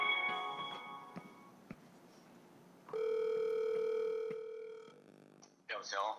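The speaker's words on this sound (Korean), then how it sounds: "전화 연결을 시도해 보도록 하겠습니다." A phone call being placed on a live broadcast, a steady dial tone held for about two seconds after earlier tones and chatter, then a brief burst of voice as the line connects.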